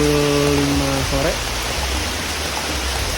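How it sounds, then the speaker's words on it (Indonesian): Rain falls on a mountain hiking trail on Ciremai in West Java, a dense, steady hiss of close downpour throughout, with a brief tonal hum fading out near the start. "Sekarang gua kena hujan, kan lagi teduh dulu sebentar sampai hujannya agak reda dikit."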